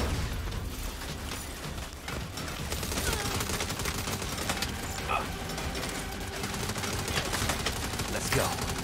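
Turret gunfire in the video game Saints Row during a boss fight, continuous rapid bursts of shots with metallic clanks over a busy, loud backdrop.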